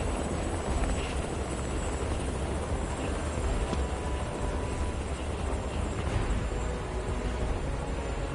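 Helicopter in Final Fantasy VII Rebirth, a steady, loud rotor drone with dense low-end chop that runs unbroken throughout, no voices over it.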